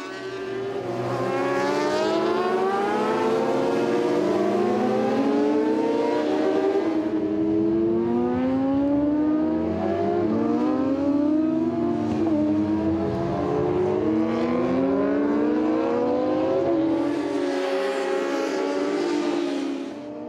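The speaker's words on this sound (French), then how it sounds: "laissant De Slovere et Fissette s'expliquer sur la piste avec leur R1" Yamaha R1 racing motorcycles at the Spa-Francorchamps 500 km race in 2007 scream past, with several high engines revving and shifting in overlapping waves, loud and close, then fading briefly before another bike swells in.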